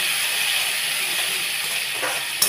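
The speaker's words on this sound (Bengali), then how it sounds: "ওই তেলের মধ্যেই আমি এই কুচনো পেঁয়াজগুলো দিয়ে দিচ্ছি।" Chopped onions fry in hot oil for a Bengali potol chingri dish, giving a steady soft sizzle and hiss that runs throughout, with a brief clatter near the end.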